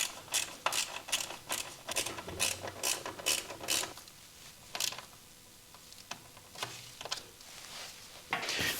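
Bolts are fitted during battery replacement on an Indian Challenger motorcycle: close, rapid bursts of ratchet clicking come in quick runs, then turn sparser and softer with isolated clicks.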